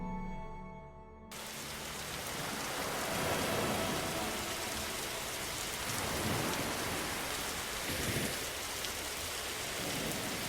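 Steady rain falls at night outside a home, a dense, even hiss of drops on surfaces with a low rumble underneath, continuing without break after a brief quieter start.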